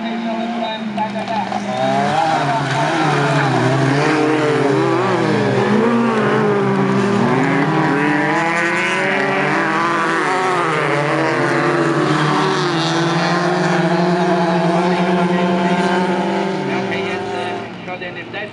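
Several autocross race cars competing on an amateur dirt track, engines revving loudly and continuously with rising and falling pitch as they race, close and sustained throughout, with a commentator's voice over the top.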